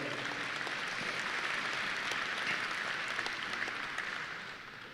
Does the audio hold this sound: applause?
yes